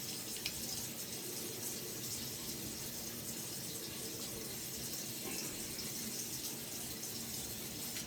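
Water runs steadily from a tap for several seconds, a continuous broadband hiss and splash at moderate distance, with no talking over it.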